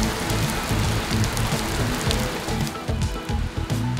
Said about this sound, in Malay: First time hujan dekat Jakarta.